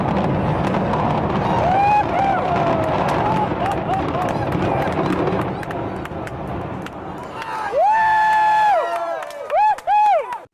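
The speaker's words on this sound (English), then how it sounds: "There were people that were cheering and clapping" A crowd cheers, shouts and claps at the demolition of the Geneva Towers in San Francisco, a loud roar of voices and applause that fades, then whistles and whoops ring out near the end.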